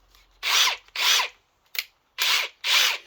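Ryobi 18-volt 3/8-inch impact driver spinning a 9/16 socket, loud close bursts of rapid hammering in four roughly half-second pulls of the trigger plus one brief blip, with silence between.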